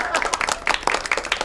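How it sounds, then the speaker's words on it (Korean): Several office workers clap in quick, uneven bursts to congratulate a colleague's promotion, a short close patter of hand claps that mixes with talking voices. "승진 축하드립니다. 박수!"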